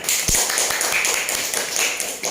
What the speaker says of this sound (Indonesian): Ya, bagus sekali, tepuk tangan